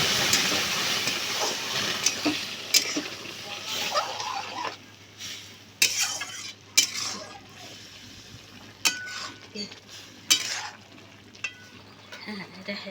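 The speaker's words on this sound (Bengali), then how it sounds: "এই যে এখন ডালটা ঢেলে দেব।" Lentils (dal) are poured into a cooking pan already holding garlic and dried red chilies. A sizzling, frying hiss fades as scraping, stirring clatters follow in separate bursts over a low steady hum.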